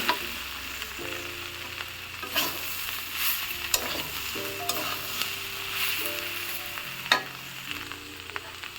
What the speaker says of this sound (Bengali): দেখেন আমার কাঁঠালটা কি সুন্দর ভাজি হচ্ছে।